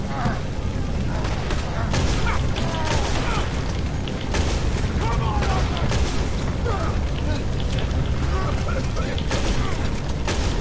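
Red Dead Redemption 2 gunfight, a dense, loud barrage of gunshots and booms over clattering mechanical noise, with people talking underneath.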